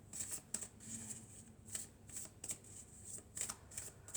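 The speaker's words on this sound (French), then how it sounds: "on va prendre quelques cartes de l'oracle de la Triade." Triade oracle cards are shuffled by hand in a series of soft, crisp riffling bursts at an uneven pace, close and fairly quiet, with no talking.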